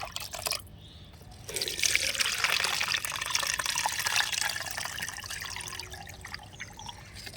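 Liquid homemade plant fertilizer being strained through a filter: a soft, steady trickle and pour of liquid running for several seconds, close up and quiet, with no talk.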